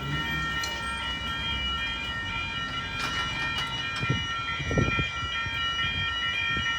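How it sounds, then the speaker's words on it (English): At Hamilton Railway Crossing in Newcastle, the level-crossing alarm rings in steady sustained tones as a V set train approaches. Faint rumbling and a few brief knocks sit underneath, heard from a short distance. "we're now currently waiting for the next train to come, the next VSET to come any moment now"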